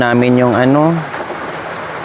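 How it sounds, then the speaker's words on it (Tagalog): Rain falls in the mountains with a steady, close hiss of drops on surfaces, first under a man's speech and then heard on its own. "sana huminto yung ulan"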